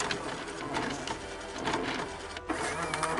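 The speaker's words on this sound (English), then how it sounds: "It prints the ticket number 6, and we're ready to go." An Alzatex ticket printer prints a ticket, giving a close, steady mechanical whirr and rapid clatter that runs continuously with a brief dip near the end.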